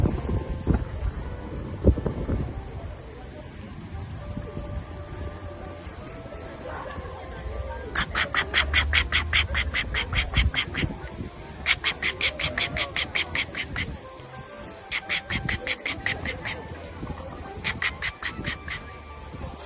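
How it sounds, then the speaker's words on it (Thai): A large swan on a flooded canal in Cambridge gives loud, rough, roaring calls in several rhythmic bursts, close by, with wind noise and water ambience between the bursts. "น้องหงตัวใหญ่ก็เสียงเสียงใหญ่นะพี่น้อง เสียงแบบ เหมือนคำรามเลยอะ่ะ"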